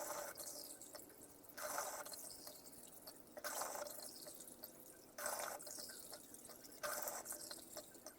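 Cupfuls of water are poured into a pan of flour, heard as faint, soft splashing bursts repeating about four times in a quiet setting.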